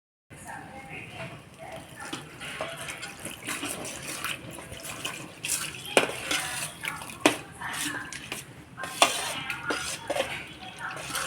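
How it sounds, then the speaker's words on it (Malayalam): Thin third-extract coconut milk is poured into cooking ada payasam and stirred, a close liquid splashing and sloshing with utensil clinks against the pot, continuous with scattered sharper knocks. "ഇനി നമുക്ക് അതിലേക്ക് 3-ാം പാൽ ചേർത്ത് കൊടുക്കാം."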